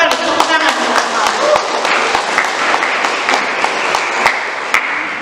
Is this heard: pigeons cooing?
no